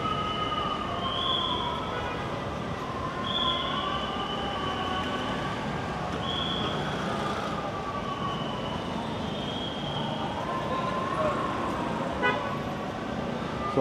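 Busy night road traffic in Jakarta, Indonesia, a loud steady roar of engines with repeated car horn toots sounding every few seconds throughout, some long and drawn out.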